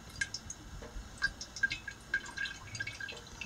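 Liquid poured off from a dissected loon egg drips in small, faint, irregular drops into a container, close and quiet with no talking.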